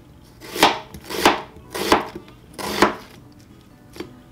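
A knife slices through yellow onions on a cutting board, with four distinct, crisp cuts spaced about half a second apart and then a faint fifth, close and clear with no talking.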